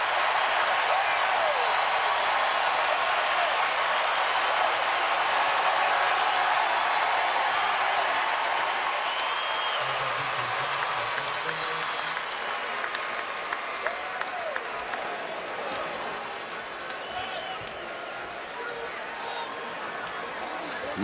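A roaring arena crowd cheers through a Syracuse Orange vs North Carolina Tar Heels college basketball game. The dense, sustained noise fades gradually, and a commentator talks over it.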